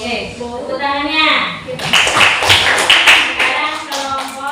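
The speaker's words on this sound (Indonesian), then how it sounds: "Oke, tepuk tangannya." Fifth-grade schoolchildren clapping in a classroom, a burst of close, lively hand claps rising after a voice and continuing in a bright patter to the end.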